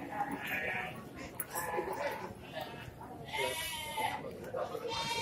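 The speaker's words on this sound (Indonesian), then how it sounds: "ini domba-domba di peternak sini" Sheep bleating at a farm, several loud nasal bleats from more than one animal overlapping and repeating close by, mixed with people talking.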